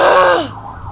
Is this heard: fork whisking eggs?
no